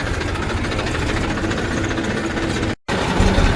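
A tractor engine runs close by with a loud, steady, rough mechanical rumble that drops out briefly before resuming.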